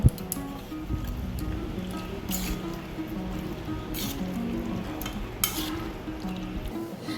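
Chicken being mixed by hand with sour yogurt marinade: soft wet squelching and squishing with occasional light clinks from the bowl, continuous and close.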